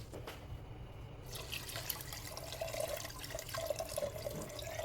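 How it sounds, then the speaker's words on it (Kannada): Water is poured into a cooking pot holding washed rice, a light, continuous trickle and splash that grows a little fuller partway through. "ಐದು ಕಪ್ಪಷ್ಟು ನೀರು ಅಳತೆ ಮಾಡಿ ಹಾಕೊಳ್ತಾ ಇದ್ದೀವಿ ಇಲ್ಲಿ"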